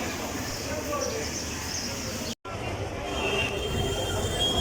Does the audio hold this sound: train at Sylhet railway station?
yes